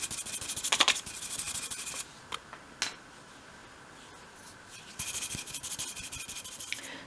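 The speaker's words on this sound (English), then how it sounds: "remove the sanding dust with a soft brush" A soft brush sweeps sanding dust off small wooden dollhouse window pieces. It makes close, quiet rubbing strokes in short bursts, with a louder stretch of brushing near the end.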